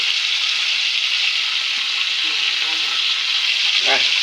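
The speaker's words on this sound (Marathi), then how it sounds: "फोडणी तडकडली" Steady loud sizzling of spices and curry leaves hitting hot oil for tempering, a dense hiss with faint crackles toward the end, no voices.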